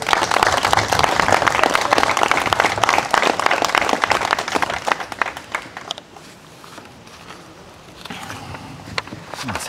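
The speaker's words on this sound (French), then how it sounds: "je pense qu'on peut les applaudir" Audience applause at the opening of an art exhibition of paintings, drawings and sculptures, loud and dense for about six seconds, then fading to scattered claps and quiet room noise.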